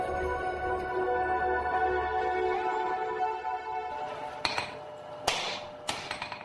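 A traditional Korean swordsmith hammers forged steel while shaping a sword blade, with sharp metallic strikes landing at the end after a sustained ringing, resonant passage.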